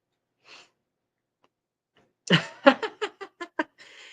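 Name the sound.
sneeze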